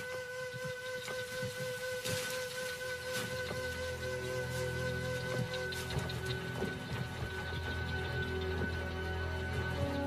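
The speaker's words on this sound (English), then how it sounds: "Rain in the Kalahari is always patchy and unpredictable" A rainstorm in the Kalahari, a dense steady wash of falling rain with scattered drips and a faint hissing, whistling tone running throughout, moderately distant and without voices.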